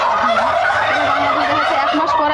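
Turkeys on a turkey farm gobble continuously in a dense, rolling, warbling chorus. The sound is close, loud and unbroken throughout.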